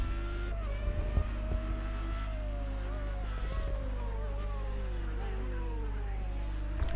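Formula Renault 3.5 race car engine from a racing video game, a steady high-pitched whine rising and falling through gear changes and corners over a constant low drone, with a faint voice commentating under it.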